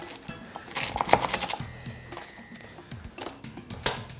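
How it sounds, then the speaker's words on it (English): Crisp, crunchy clicks as a knife chops through a tough, fibrous lemongrass stalk, a cluster of close cuts in the middle followed by a few scattered later strokes. "the lemongrass is quite fibrous and even a little tough. You can hear that kind of crunchy sound"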